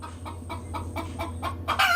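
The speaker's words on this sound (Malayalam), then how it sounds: "കോഴികൾ കൂട്ടത്തോടെ ശബ്ദമുണ്ടാക്കുന്നു" Several native chickens cluck in quick, repeated bursts close by in a coop, a busy, continuous chorus with a louder call at the end.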